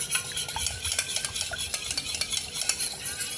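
A utensil stirs curd in a bowl to make buttermilk, giving steady wet swishing and light scraping in a quick, continuous rhythm.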